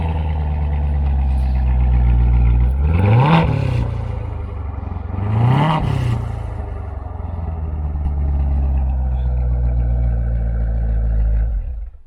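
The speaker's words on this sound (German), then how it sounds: "starten wir jetzt mal die C7 und schauen mal, wie der Wagen so klingt" A Chevrolet Corvette C7 engine runs steadily with a deep, loud low rumble, swelling twice in quick revs that rise and fall before settling back to a throbbing idle, heard alone without talk.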